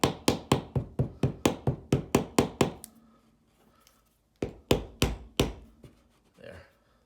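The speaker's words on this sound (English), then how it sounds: "you can just get a small hammer and tap it in" A small hammer taps a nail into an acoustic panel with a quick run of sharp, even knocks, pauses, then strikes a few more times close by.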